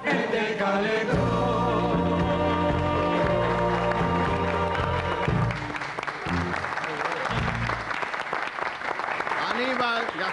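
Sustained applause from a large football stadium crowd at the Vicente Calderón fills the clip, loud and continuous, mixed with musical tones and a public-address voice in the background.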